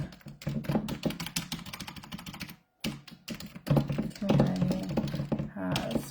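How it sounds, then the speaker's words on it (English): Rapid typing on a computer keyboard, close and busy with a brief pause midway, while a person talks over it. "my keyboard is like not sitting here properly because I've got the tripod stand on here"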